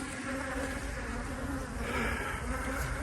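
Honeybees buzz densely and steadily around healthy hives, a close, continuous hum with no pauses and no voices.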